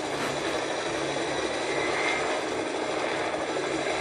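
Helicopter in Fortnite drones steadily, a loud, unbroken broadband whir with a faint rattling rotor texture, constant in level throughout and free of any voices.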